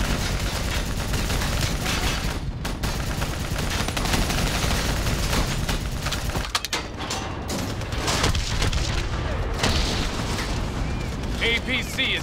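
Sustained gunfire aimed at a VTOL aircraft in Call of Duty Black Ops 3, a dense, continuous roar of shots and combat noise with voices calling out throughout.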